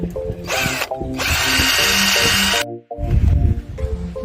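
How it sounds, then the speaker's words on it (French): A power drill bores into a sailboat mast in two sustained whining runs, followed by rougher, louder grinding as the bit works through the metal. "c'est stressant de percer son mât"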